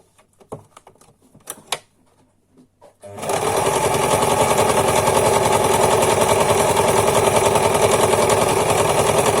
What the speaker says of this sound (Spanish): y las cosemos de una punta a otra punta en línea recta, así